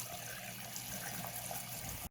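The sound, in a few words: water running, washing marker off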